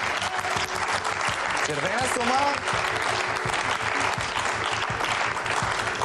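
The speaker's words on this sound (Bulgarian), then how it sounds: "Аплодисменти!" Studio audience applause on the Bulgarian game show Deal or No Deal, a sustained roar of clapping that continues while a presenter speaks over it.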